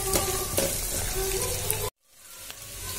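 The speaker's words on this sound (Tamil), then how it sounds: "ஸோ ஆனியன் கொஞ்சம் நல்லா ப்ரௌனிஷாக வறுத்துக்கோங்க." Onions frying in a pan for vegetable noodles give a steady close sizzle, cut off by a brief silence near two seconds before the sizzle returns.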